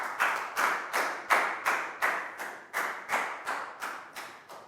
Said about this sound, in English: High five and a big round of applause for Pangpon